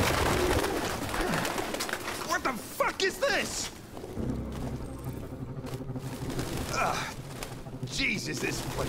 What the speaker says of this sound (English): this place stinks. All pigeons.